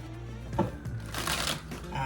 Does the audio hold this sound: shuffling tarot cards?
yes